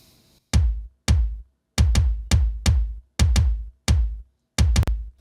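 Three kick drum samples, layered and triggered together, thump roughly ten times in a steady groove. Each hit is punchy and deep with a brief tonal tail, loud and upfront with no speech.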